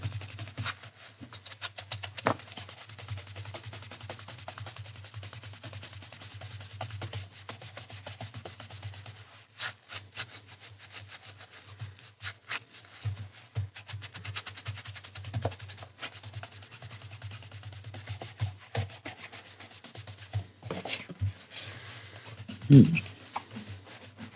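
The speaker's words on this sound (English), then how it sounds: "the edges here, so it's going to need quite a bit of rubbing by the look of it" The dusty top edges of an old book are rubbed during repair in a long run of close, soft, scratchy strokes, steady and quiet with slight pauses, with no speech.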